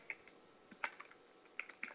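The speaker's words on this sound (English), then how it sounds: "Am I on keyboard? Listen to my click." A computer keyboard clicks sharply and sparsely in a quiet room while someone plays Fortnite, the keypresses irregular and fairly close.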